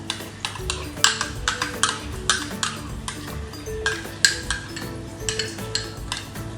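A utensil stirs a mixture of juice, fiber and honey in a container, producing quick rhythmic clinking taps against the sides, close and steady without talk.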